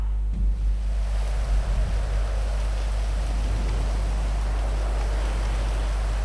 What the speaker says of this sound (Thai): ฝนก็ตกแล้ว